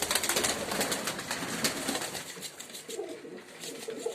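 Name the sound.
cream-coloured domestic pigeons cooing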